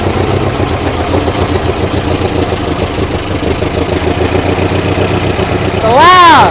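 The engine of a 1964 International Harvester Scout, abandoned for 40 years, idles roughly and loudly on its first start, then revs hard near the end, with a rising and falling whine over the rumble.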